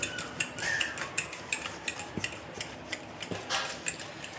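A spoon mixes sour curd into semolina batter for green corn fritters, making soft, regular clicks and taps against the bowl, a quiet steady rhythm up close.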